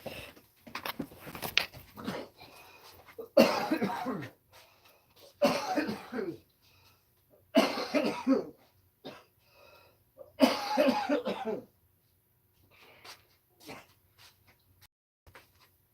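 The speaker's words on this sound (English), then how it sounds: "A little cough," A man coughs several times in short, separate bursts, close and fairly quiet, with quiet pauses between them.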